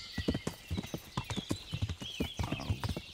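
Horse hooves clip-clop in a steady walking rhythm in the medieval video game Kingdom Come: Deliverance, close and distinct, with faint background ambience and no talking.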